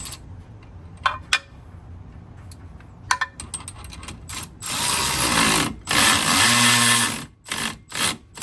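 Zip ties ratchet tight on a BMW E30 during a race control arm install with a roll-center kit. A few isolated clicks come first, then louder, sustained rasping bursts of tightening follow up close, with no talking.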